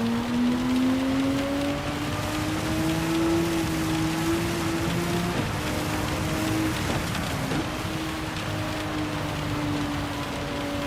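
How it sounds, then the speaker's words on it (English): Heavy rain noise in a sim racing game with a Porsche RSR Gr3 car, steady dense hiss throughout with a droning engine tone rising and shifting underneath, no voices. "Ooh, racing in the rain."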